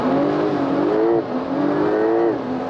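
A car accelerates at full throttle on an airport runway during a racing event, a loud steady engine roar with pitch climbing and dropping twice as it shifts gears, close and continuous.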